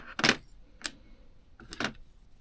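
Wire being cut for filigree earrings, with three short, sharp metallic snips spaced apart, close by and fairly quiet, with no talking.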